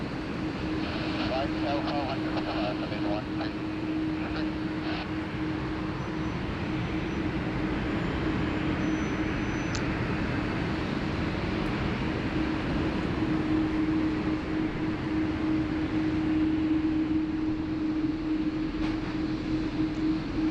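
An Air India airliner taxiing at Sydney Airport, a steady, distant jet engine hum that holds through the whole stretch, with someone talking over it.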